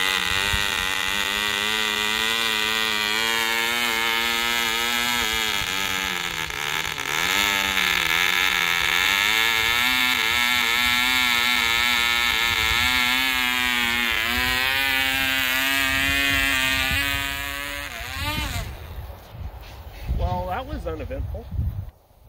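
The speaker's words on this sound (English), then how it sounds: "that starts really well for a parts engine" A Cox TD 020 model airplane engine, a used parts engine, runs loud and close at a high buzzing pitch that wavers slightly before cutting out abruptly near the end.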